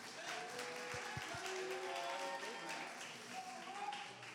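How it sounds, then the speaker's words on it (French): An audience applauds after a presentation, a fairly quiet, sustained patter of many hands clapping with faint voices and a few tones mixed in. "On applaudit."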